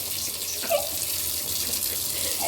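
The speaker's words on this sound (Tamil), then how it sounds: "Jenilia, wash the dishes" A kitchen tap runs steadily into a sink while dishes are washed, giving a continuous close water rush with a brief splash partway through and no clear speech.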